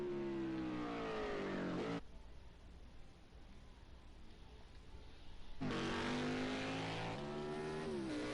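Race cars roaring around the Indy oval in a video game, engines droning steadily with a pitch sweep, fading to a quieter gap before the loud engine note returns.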